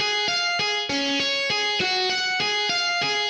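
A melody played at a faster tempo in GarageBand, a bright synthesized repeating note pattern in quick even steps, clean and prominent with no voices.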